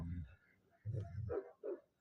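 A muscular dog gives several short, deep barks in quick bursts, close by, with brief pauses between them.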